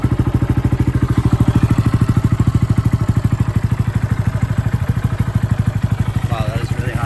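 A motorcycle runs on a cheap replacement exhaust fitted with a silencer, a steady close-up idle of rapid, even low thumps that continues throughout, with a few faint pops near the end.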